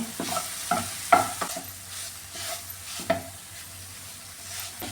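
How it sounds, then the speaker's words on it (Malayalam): Fried plantain gets mashed in a ghee-coated pan, with soft sizzling underneath a few distinct scraping and pressing strokes of a utensil against the pan, close and moderately loud, no voices. "പഴമെല്ലാം ഇത് വെച്ച് ഒന്ന് നന്നായിട്ടൊന്ന് ഉടച്ചെടുക്കാം"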